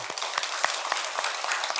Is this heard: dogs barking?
no